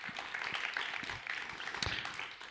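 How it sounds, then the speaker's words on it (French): An audience at a thesis-presentation final applauding a jury member, a brief burst of scattered hand claps, moderately close and fading toward the end. "On peut l'applaudir également, s'il vous plaît."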